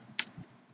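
A single quick keystroke on a computer keyboard while an SQL query is typed into Oracle, faint and brief with a soft thump after.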